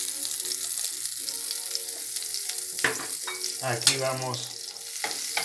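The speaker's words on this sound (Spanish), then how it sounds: "a saltear la cebolla para que se dore" Onion sizzles steadily in extra virgin olive oil in a pan, a continuous close frying hiss with a few stirring scrapes, and someone speaks briefly partway through.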